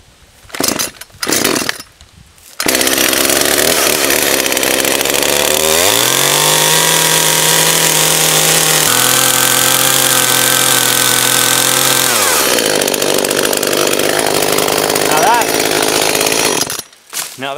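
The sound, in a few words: chainsaw cutting a kerf in wood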